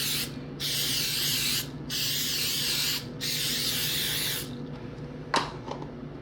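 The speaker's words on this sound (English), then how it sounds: "Just spray it well because you don't want this to stick." Cooking oil spray is sprayed onto a bowl mold in three hissing bursts of about a second each, close and fairly loud, followed by a brief clatter.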